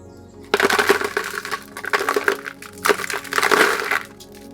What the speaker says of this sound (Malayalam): ആ ഹോളിൻ്റെ മുകൾ വശത്തായിട്ട് ഗ്രാവലാണ് നമ്മൾ ഇട്ട് കൊടുക്കുന്നത്